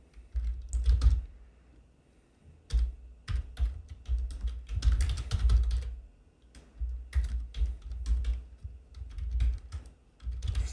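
Typing on a computer keyboard during a Minecraft commands session: irregular bursts of clicking keystrokes, close and fairly loud, with short pauses between flurries and no voices.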